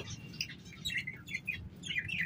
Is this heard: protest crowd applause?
no